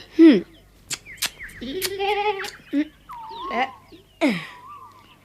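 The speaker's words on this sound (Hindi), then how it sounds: "बिंदा ने खोदना रोक दिया और कहा, तुम्हारे सब सवालों के जवाब दूंगा, पर पहले इस बकरी को बांधो। मेरा सारा पालक चबा रही है।" A goat bleats repeatedly in a farmyard, several wavering, nasal cries of varying length spaced across the moment, fairly close and loud, with no talking.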